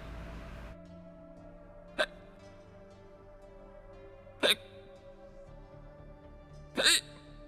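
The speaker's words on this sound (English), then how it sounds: "The hiccup stayed." A cartoon skeleton hiccups three times at spaced intervals, each sharp and brief, over a soft musical background in a Halloween read-aloud story.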